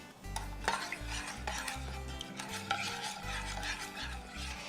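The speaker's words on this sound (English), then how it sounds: "Give it a good mix." A spoon whisks and scrapes around a small bowl of sauce with sesame oil and cooking wine, making quiet, rhythmic clinking strokes, close up and with no voices.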